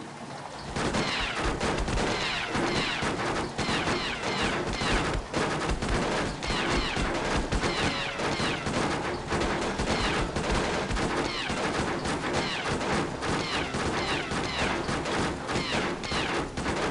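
Dense, continuous gunfire in The Da Vinci Code PC video game, loud rapid volleys of shots overlapping without pause for the whole stretch, no talking.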